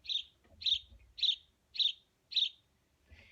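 A sparrow repeats a bright, buzzy chirp five times at an even pace, close and clear, with a fainter sixth note trailing off.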